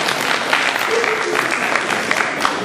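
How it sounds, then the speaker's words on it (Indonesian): Steady applause from an audience at a university student lecture with the Indonesian ambassador, dense and even throughout, with a murmur of voices mixed in. "Mohon beri tepuk tangan buat Pak Dubes kita."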